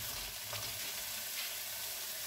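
Steady, dense sizzling of still-frozen julienned vegetables frying in a hot pan with egg for fried rice, a continuous crackling hiss throughout with no talking.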